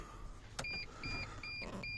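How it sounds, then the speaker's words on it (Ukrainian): Car power windows on the driver and passenger doors running in a few short motor whirs with faint beeps, close up and alone. "Ось склопідйомники, водія пасажира."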